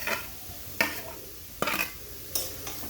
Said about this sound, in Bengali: কড়াইটা গরম হয়ে গেছে, এবার আমি গ্রেট করা গাজরগুলো দিয়ে দেব।